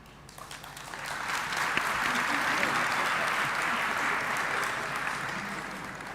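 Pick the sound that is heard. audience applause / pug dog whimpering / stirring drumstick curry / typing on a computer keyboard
audience applause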